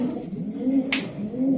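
A racing pigeon coos in a low, rolling burst, close and clear, with a brief sharp rustle partway through and no voices.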